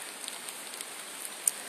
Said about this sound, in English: It is freaking raining